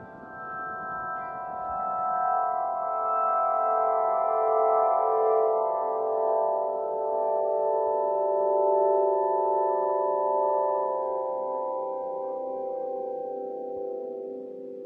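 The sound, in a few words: Aeolian harp played by the wind, south coast of Ireland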